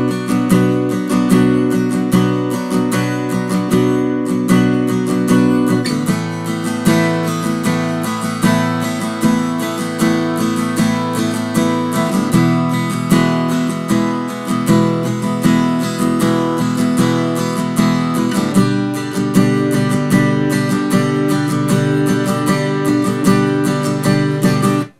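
An acoustic guitar strums the chords of a song's second verse in a steady driving rhythm, each chord held for about two bars, loud and close throughout with no voice.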